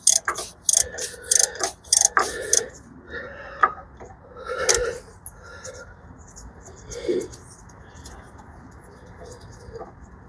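Ratchet driving nuts onto the studs of a 2019 Ford F250 diesel front axle, with rapid bursts of close, sharp clicking in the first few seconds before quieter handling noises and a brief voice.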